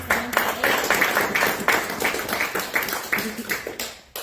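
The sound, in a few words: audience applause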